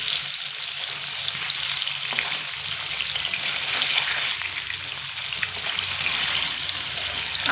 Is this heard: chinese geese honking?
no